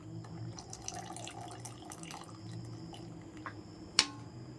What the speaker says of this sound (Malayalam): ശർക്കര ഇങ്ങനെ ഒരു അരിപ്പിൽ അരിച്ച് വീത്തി കൊടുക്കുക